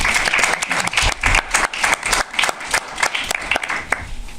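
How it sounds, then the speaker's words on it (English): A film screening audience applauding, dense clapping that rises and falls in waves, fairly close and loud, with no speech over it. "A round of applause for that, please."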